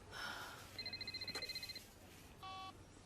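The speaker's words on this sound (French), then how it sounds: "C'est mon téléphone." A telephone rings in a French action film, giving electronic tonal bursts, first a pulsing trill and then a steady tone, fairly faint against a quiet room background.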